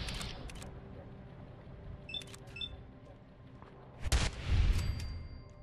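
Fallout 4 gunfire during a settlement attack: scattered faint shots and clicks, then a louder burst of close, heavy firing near the end.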